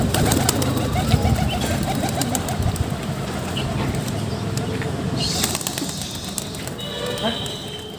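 A flock of pigeons shooed off a rooftop flutters and flaps into flight, wingbeats and cooing mixed into a busy outdoor background, with bursts of flapping toward the end.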